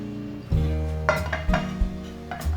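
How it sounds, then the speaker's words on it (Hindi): Spoon scraping and clinking in a hot pan while spreading ghee for keema samosa filling, a few sharp metallic knocks and scrapes close up over a low background hum. "घी डाला मैंने। इसे थोड़ा सा फैला लेंगे।"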